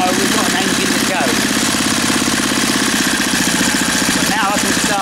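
An old engine of unknown make runs loud and close at a steady idle with a fast, even chugging beat and a rough metallic knock throughout.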